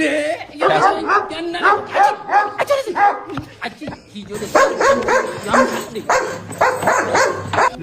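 A small dog gives a quick series of loud, close yaps in two bursts, with people talking around it.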